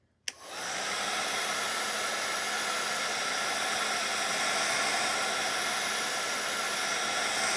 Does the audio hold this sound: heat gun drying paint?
yes